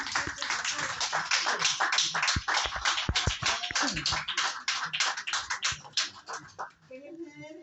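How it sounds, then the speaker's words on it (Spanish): Audience applause for a panel at an event against imperialist war and the genocide in Palestine, a dense run of hand clapping from many people held steady for about seven seconds before it thins out at the end. "un aplauso para la mesa."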